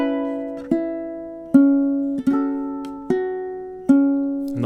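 A ukulele picks the filler passage of a song from measure 22: six or seven clear plucked notes, each ringing and slowly fading, close and alone.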